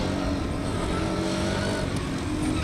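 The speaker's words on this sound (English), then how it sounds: "Can't tell if that car sounds completely healthy or not." A Formula Student racing car engine drones steadily at high revs from a distance on an autocross course, with a rough, buzzing tone and slight changes in pitch.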